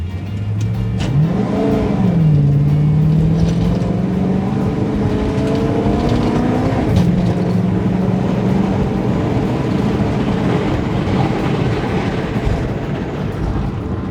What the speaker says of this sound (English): That was a run up to about 70 miles an hour.